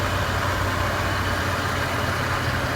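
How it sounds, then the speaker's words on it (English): A car engine idles steadily with the air-conditioning compressor clutch engaging and disengaging in the background, a continuous close low hum with no talk. "You can hear the engine kicking up and down in idle, and you can hear the engagement of the clutch and the disengagement of the clutch in the background."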